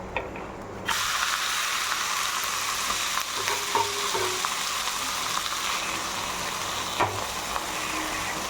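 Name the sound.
green gram snack sizzling as it is flipped in a pan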